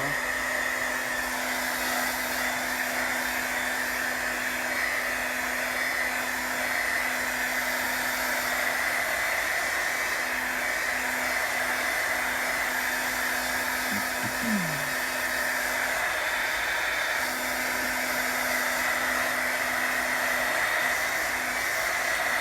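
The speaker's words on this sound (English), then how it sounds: "I've had some people ask me what heat tool I use. And it's actually for embossing, but it works to dry my pages as well" An embossing heat tool blows hot air to dry a craft page, giving a steady, loud, unbroken fan whoosh with a constant motor whine that runs alone from start to finish.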